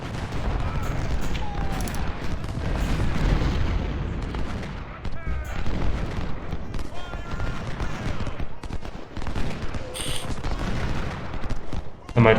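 Howitzer artillery and musket volleys from a Civil War battle in Ultimate General: Civil War, dense rolling booms and crackling gunfire continuing throughout at fairly loud level.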